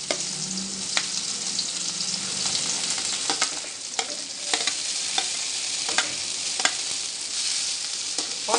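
Chopped onions fry in oil for an egg curry, a continuous close sizzle broken by scraping spatula strokes at irregular intervals as they are stirred toward brown; no voices.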